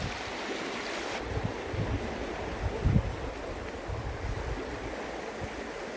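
A river running high and strong after heavy rain, a steady loud rushing of water heard up close with no talk over it.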